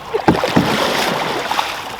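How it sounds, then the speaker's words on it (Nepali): Paddle strokes splash and dip through water as a rowboat moves near the shore during a group camping outing, a few close, distinct plunges early on over a steady wash of water and outdoor background. "त्यसरी गरेर अगाडि बढ्छ कि पानीलाई पछाडि फाल्ने बोट अगाडि बढ्छ"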